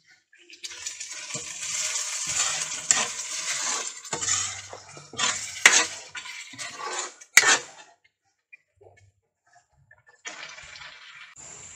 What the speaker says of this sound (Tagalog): so nilagay ko na po yung pasta at hahaluin na lang